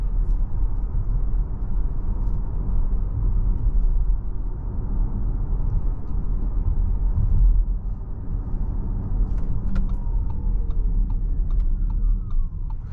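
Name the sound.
electric motor sound of Audi Q8 e-tron driving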